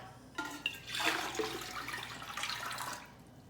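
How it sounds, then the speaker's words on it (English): Seven cups of broth poured into a cooking pot for chicken spaghetti, a steady rushing splash of liquid that swells and then tapers off near the end. "we're going to take our 7 cups of liquid and we're going to add it to our pot"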